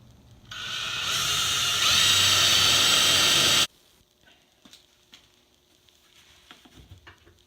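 A drill drives a drywall screw into wood for a scarf joint jig. There is one loud, close whine lasting about three seconds, rising in pitch partway through, then it stops sharply and quiet clicks and handling sounds follow.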